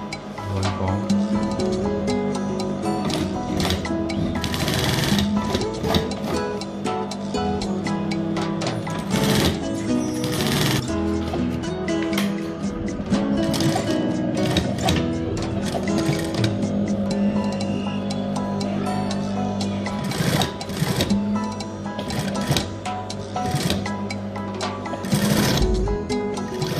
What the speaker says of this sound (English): Stitch all panel together.